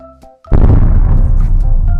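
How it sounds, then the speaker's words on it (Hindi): Firecrackers thrown by a drone onto gamblers in a cartoon, a sudden loud blast followed by a rumbling, crackling burst that stays loud to the end. "वो ड्रोन आकर जुआ खेलने वालों के ऊपर पटाखे फेंकने लगी"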